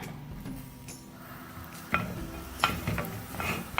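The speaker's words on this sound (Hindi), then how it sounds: "सबसे पहले ऑयल में फ्राई करेंगे प्याज को" A large sliced onion fries in hot oil over a medium flame for chicken jalfrezi. There is a soft, close sizzle with stirring scrapes and a few sharp utensil clinks against the pan.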